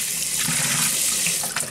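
Squid being rinsed under a running kitchen tap, a steady close hiss of flowing water splashing into a sink throughout, with brief shifts as the squid is moved under the stream.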